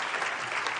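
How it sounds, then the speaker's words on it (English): Steady applause from a crowd of many hands clapping, dense and even throughout with no pauses or voices standing out. "is this clapping over here?"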